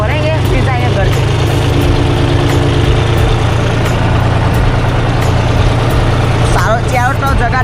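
A tractor engine rumbles steadily while driving, a loud continuous low drone close by, with someone talking over it throughout.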